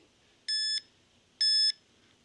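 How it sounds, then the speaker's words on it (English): FPV goggles running on a custom 18650 battery sound a low-battery warning: two short electronic beeps about a second apart, clean and moderately loud over near silence. "Okay, so we've finally started beeping."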